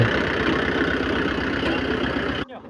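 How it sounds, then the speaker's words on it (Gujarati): A tractor engine runs steadily with a rhythmic low chugging throb in a field during potato planting, loud and close, cutting off abruptly near the end. "જોઈ શકો છો ટ્રેક્ટર કેવું ચાલે છે."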